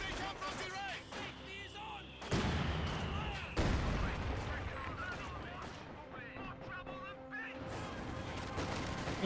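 Anti-tank gun shots in a Company of Heroes 2 match, with sharp loud booms near 2.3 and 3.6 seconds over a dense din of battle gunfire and explosions while a commentator talks throughout.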